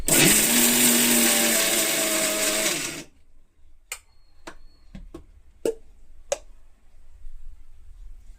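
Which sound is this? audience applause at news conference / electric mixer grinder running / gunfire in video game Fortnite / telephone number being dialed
electric mixer grinder running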